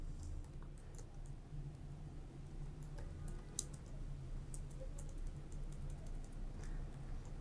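Arduino code being typed on a computer keyboard: scattered light key clicks, some in quick bursts, faint and close over a steady low hum.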